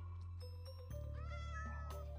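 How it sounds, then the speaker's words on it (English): A cat meows twice in the Minecraft video game, short rising cries over a steady low game hum and faint background tones, fairly quiet with no talking. "Oh, I hear kitty!"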